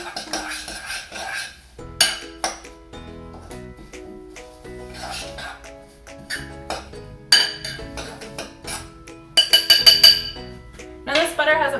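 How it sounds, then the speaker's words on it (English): A spoon stirring a maple syrup, oats, cinnamon and butter crumble mixture in a bowl, irregular clinks and scrapes of utensil against dish, with bursts of louder clatter. "So now I'm going to stir up this mixture."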